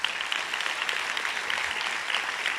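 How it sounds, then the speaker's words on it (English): An audience at the Desmond Tutu International Peace Lecture claps steadily, a dense even patter of many hands held at a constant level throughout. "A round of applause, Alexandra."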